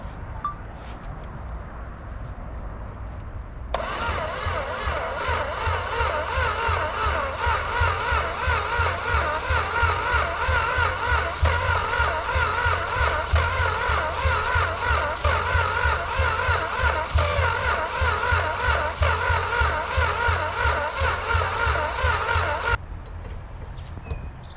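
A 1962 Plymouth Valiant slant six with new plugs and wires cranking without firing: a loud, even, rhythmic churning that runs unbroken for about nineteen seconds, then cuts off abruptly.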